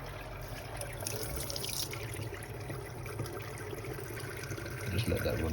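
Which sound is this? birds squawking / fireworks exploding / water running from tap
water running from tap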